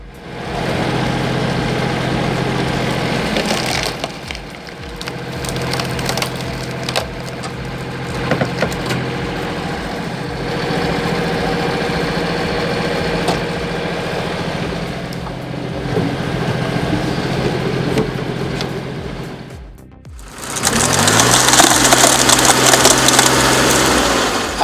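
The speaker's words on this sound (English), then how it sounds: "the Vinya cone-shaped wood splitter, with its 36 horsepower engine, is like the unsung hero of your wood processing setup" A cone-shaped wood splitter driven by a 36-horsepower engine drones steadily as it works through firewood, with intermittent cracking and splintering of wood over the running engine, ending in a louder burst of engine noise.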